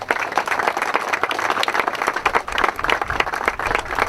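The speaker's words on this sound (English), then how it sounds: "Let's give them a round of applause." A crowd claps steadily and densely at an outdoor ribbon cutting for a turf project, the applause holding at full strength for the whole stretch with no break.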